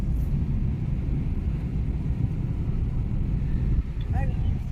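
A car being driven through Delhi toward Sarojini Nagar market, heard from inside the cabin: a steady low road and engine rumble throughout, with someone talking over it.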